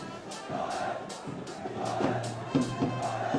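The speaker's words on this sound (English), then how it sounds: "Royal crowd there." Spectators at a Royal–Thomian schoolboy water polo match in Sri Lanka shout and cheer in bursts, with a commentator talking over the crowd noise.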